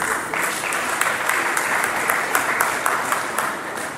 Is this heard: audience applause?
yes